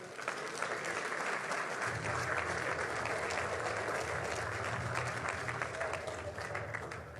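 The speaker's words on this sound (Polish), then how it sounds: "Ogromne brawa raz jeszcze." At a motorsport awards gala honoring Polish hill-climb championship winners, the audience claps steadily and warmly, a continuous dense patter of many hands at moderate loudness, with a low hum entering partway through.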